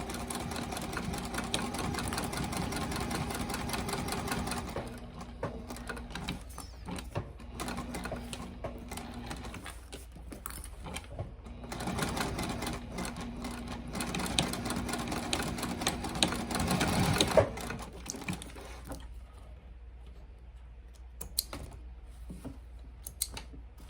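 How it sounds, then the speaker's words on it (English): A sewing machine stitches a bifold wallet in a steady mechanical whir with rapid needle chatter. It runs continuously, pauses briefly, then resumes and fades toward the end, close and without speech. "And then you can continue sewing just like normal."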